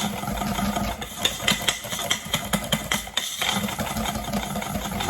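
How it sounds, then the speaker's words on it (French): An electric whisk mixes chocolate banana tart batter with a steady motor whir, broken by rhythmic knocking pulses against the bowl, close and continuous. "Je reprends mon fouet et je mélange pareil, doucement au départ."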